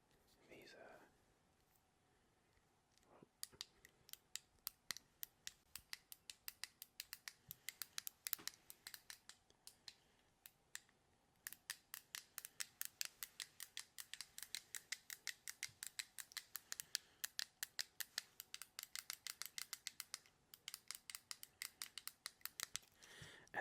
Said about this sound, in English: 3 of the 5 buttons make a clicky noise